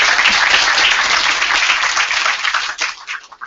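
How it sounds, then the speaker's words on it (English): A summit audience gives a round of applause, a dense sustained clapping from many hands that stays loud and close before thinning and tapering off in scattered claps at the end. "Please, round of applause."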